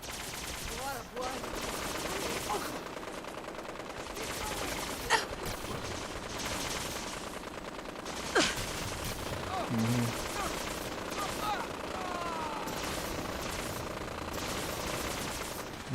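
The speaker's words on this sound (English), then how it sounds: "Who is shooting at me?" Gunfire in Fallout 4, with a few sharp distant shots and bursts over a constant rumbling game background, moderately loud and sporadic, while a person talks in places.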